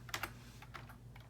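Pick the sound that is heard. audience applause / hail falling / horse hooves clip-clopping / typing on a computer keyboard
typing on a computer keyboard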